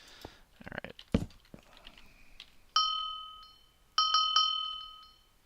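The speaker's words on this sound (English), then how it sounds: "Why did I just hear a bunch of dings?" Several bright, ringing dings chime in a video game, a single one followed by a quick cluster of three, each decaying slowly after soft clatter and shuffling noises.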